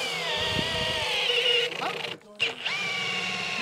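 A power drill bores holes during garden room base and wall construction, its motor whining at a steady high pitch, then cutting out briefly and spinning up again.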